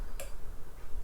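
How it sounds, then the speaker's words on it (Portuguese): A relay inside a smart light switch gives a single sharp, quiet click near the start, followed by a low room hush. "A cada vez que você faz isso, você ouve o relé disparando."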